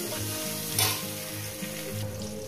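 Chopped tomatoes fry in a pan for a Bengali rui fish curry, giving a steady close sizzle with a brief louder burst of spattering.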